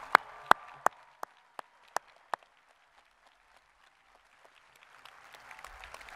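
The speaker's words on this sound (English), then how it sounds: "you can give them a round of applause ahead of time" Sparse clapping rises at a summer university commencement ceremony for master's degree candidates: a handful of crisp, evenly spaced claps that fade away, followed by faint crowd murmur.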